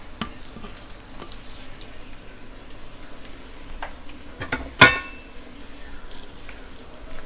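Tacos al pastor meat sizzles steadily in a skillet, with light stirring scrapes and one sharp metallic clang as the meat is flipped partway through.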